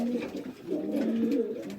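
Pigeons in a stock loft coo softly in a couple of low, throaty, rolling calls, quiet and close, with no other noise around them.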